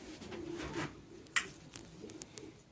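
Modena pigeons coo softly in a loft, low murmuring calls heard at a distance alongside faint rustles and a few sharp clicks.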